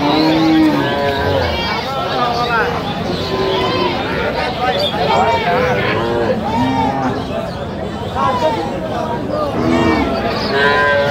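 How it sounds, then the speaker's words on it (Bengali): A cow and calf moo repeatedly at a cattle market, deep calls mixed with higher ones, close by over a steady murmur of crowd chatter and voices. "গাভী বাছুর"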